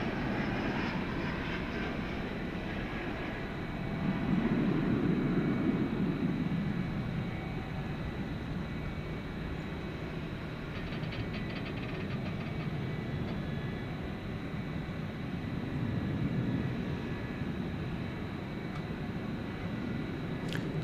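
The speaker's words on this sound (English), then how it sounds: "United Airbus A319 going to Denver." A United Airbus A319 departing Dallas Fort Worth for Denver gives a sustained jet rumble that swells, eases and swells again, with low rolling roar and faint high whine, no voices present.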